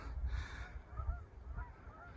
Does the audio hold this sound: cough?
no